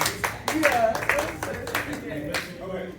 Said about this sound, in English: Hey, round of applause, everybody.